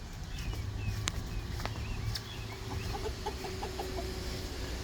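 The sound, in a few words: chickens clucking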